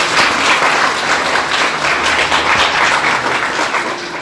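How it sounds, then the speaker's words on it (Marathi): A church congregation claps loudly and steadily together, a thick wash of many hands that keeps going evenly for several seconds with no voices on top. "त्या प्रभूच्या नावासाठी जोरदार टाळ्या वाजवा"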